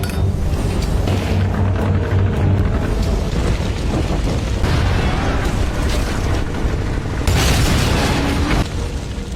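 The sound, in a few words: boat explosion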